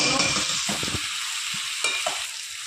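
Winter vegetables frying in a pan for amudi fish chorchori, a steady close sizzle with occasional scraping stirs of the spatula, and no talk.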